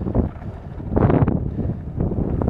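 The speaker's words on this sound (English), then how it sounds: "Yeah, so I'm skating right now." A skateboard rolling along outdoors, picked up by an in-ear monitor headset microphone: a steady low rumbling roar with wind buffeting, swelling slightly midway, with no voices.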